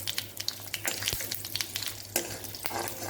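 Fenugreek seeds and curry leaves crackle in hot oil as a tempering for buttermilk curry (mor kuzhambu), giving a close, busy spatter of sharp pops over a constant sizzle.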